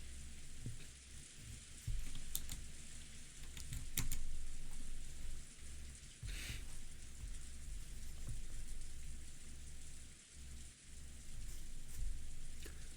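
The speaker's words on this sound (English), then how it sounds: "I could concentrate with the sound of the rain than any silence any day" Soft rain falls in the visual novel game Umineko, a continuous low hiss dotted with scattered sharp drip-like ticks, fairly quiet throughout and free of speech.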